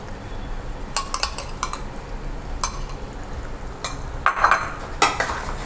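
Fresh curd is stirred into chicken kadai masala in a pan, a spoon scraping and knocking against the metal in a quick irregular rhythm over a steady low sizzle, close and fairly loud, with no talking.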